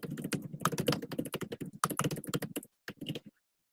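Rapid clicking keystrokes on a computer keyboard, a close, busy run of irregular taps that slows into a few final presses before falling silent.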